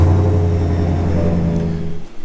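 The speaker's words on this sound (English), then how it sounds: "I don't know if you guys can hear the Borla exhaust, but I am loving that still. Sounds amazing, even at idle." A 2024 GMC Sierra 2500 HD with a Borla exhaust idles close by, a deep steady rumble that holds level and then wavers slightly toward the end, with no talking.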